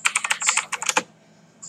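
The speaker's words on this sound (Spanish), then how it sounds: "está buenísimo el teclado, boludo. El ruidito como que ahora." Rapid clattering keystrokes on a computer keyboard, a quick burst of close, crisp taps for about a second, a pause, then another keystroke at the end.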